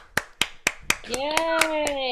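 A small online audience applauds students after a spring piano recital with a few sharp, separate hand claps, then an excited cheering voice joins in over more clapping.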